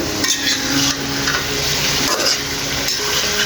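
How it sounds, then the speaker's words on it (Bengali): Meat being stir-fried with onions and spices over high heat, a dense continuous sizzle with a spoon scraping and stirring in the pan close up, loud and uninterrupted, with no voices. "এখন মাংসটা ভালো করে কষিয়ে নেব হাই হিটে"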